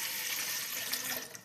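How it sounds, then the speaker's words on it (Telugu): Cool water pours steadily over homemade butter being washed for ghee, a soft continuous splashing rush like a running tap into a bowl, fairly faint and without speech. "ఇప్పుడు ఈ వెన్న మొత్తాన్ని కూడా ఫ్రెండ్స్ మనం కూల్ వాటర్ పోసుకొని చక్కగా కడుక్కుందాము."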